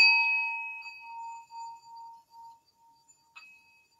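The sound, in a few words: resonant bowl rim rubbed in circles with stick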